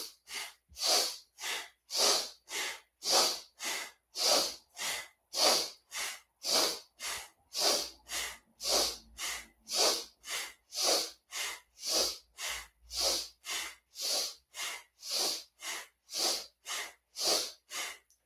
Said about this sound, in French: Donc inspire, expire par le nez.